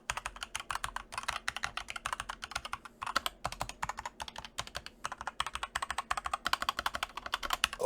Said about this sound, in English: I'm going to put a keyboard in front of it and see how it sounds.